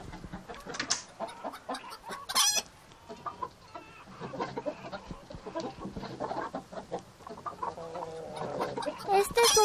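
Chickens cluck and call in a busy farmyard, with a steady mix of overlapping clucks and squawks plus one sharp, loud burst partway through, under scattered background voices.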